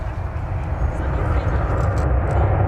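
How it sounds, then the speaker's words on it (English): An American Airlines passenger jet at DFW Airport gives a steady, fairly loud engine rumble, with a voice talking over it. "Here's American Flight 757"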